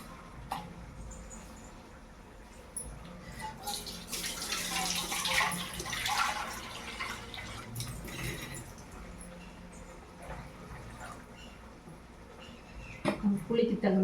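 Tamarind water poured from a vessel into a cooking pot on the stove: a soft splashing, trickling pour swells and fades over several seconds, with a quiet kitchen background and a few clinks near the end.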